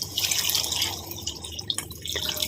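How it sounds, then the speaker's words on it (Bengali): Water pours steadily into a pan of pea ghugni curry, a continuous splashing hiss lasting a couple of seconds, close and fairly loud with no voices. "তারপরে এর মধ্যে জল দিয়ে দিতে হবে"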